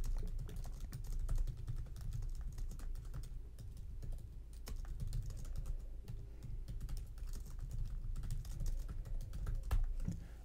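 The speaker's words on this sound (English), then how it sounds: "And so we'll just do some typing here." Steady typing on a computer keyboard while writing in the Ulysses app, quick irregular key clicks continuing throughout, close and fairly quiet with no talking.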